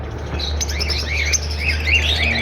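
A blue opaline breeder pair of pet birds chirps in quick, warbling twitters that rise and fall close by, over a low steady background hum.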